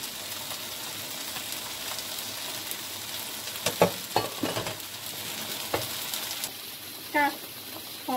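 Vegetables stir-fried in a pan for a red date, corn, white radish and beetroot dinner, with steady sizzling and crackling throughout, a few louder stirring clatters of the utensil partway, and faint talk in the background.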